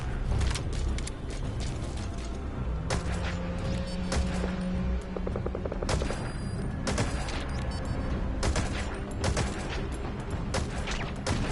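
Gunfire in Metal Gear Solid V, a busy stretch of clattering shots and sharp mechanical clicks and rattles, fairly close and continuous throughout, layered over a dense background din.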